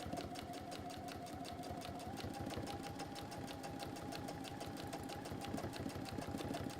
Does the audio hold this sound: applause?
no